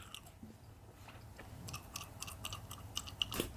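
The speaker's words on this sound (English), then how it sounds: "And then you just chew" Soft rubbery chewing and clicking close to the mic, irregular squeaks and taps growing slightly louder toward the end.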